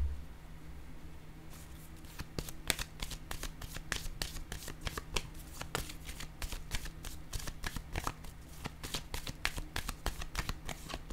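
Tarot cards handled and shuffled close up, a dense run of crisp riffling flicks and taps with a rapid, uneven rhythm throughout, no talking.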